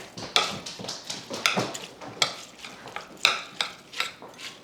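Drained rice being stirred into casserole ingredients with a spoon in a dish, a series of close, wet scraping and clacking strokes at a loose, uneven rhythm.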